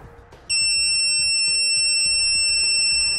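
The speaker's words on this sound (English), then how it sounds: "we're going to hear an audible alert and have that breakaway light come on" Roadmaster universal braking monitor sounds its breakaway alert: a loud, steady, piercing electronic alarm tone starts abruptly after a brief quiet moment and holds without a break to the end.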